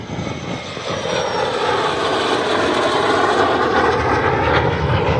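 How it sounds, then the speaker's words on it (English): An A-4 jet makes a slow pass with its hook down at a Midland, Texas airshow, a loud, sustained roaring whine that builds and holds steady, close and overhead. "the A4 on a slower pass with the hook down"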